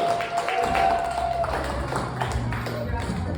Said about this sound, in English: Come on, start clapping, let's go!